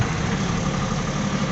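Engine of a new Ashok Leyland BS6 Bada Dost light truck running steadily: a smooth, even low hum with a constant drone and no talking.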